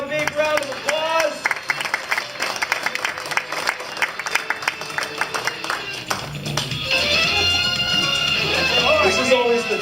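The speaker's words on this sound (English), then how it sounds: "Let's give them a big round of applause" An audience applauds at a lunchtime magic show. Scattered, uneven claps are mixed with talk and movement at first, then build into fuller, steadier applause toward the end.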